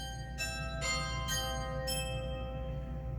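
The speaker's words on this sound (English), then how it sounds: "a carillon, which sounds like church bells." A carillon stop on a Hauptwerk virtual organ rings out like church bells, four bright metallic strikes in steady succession over a held organ tone, each decaying with a shimmering tail, played alone with no voices.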